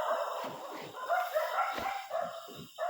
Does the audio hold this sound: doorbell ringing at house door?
no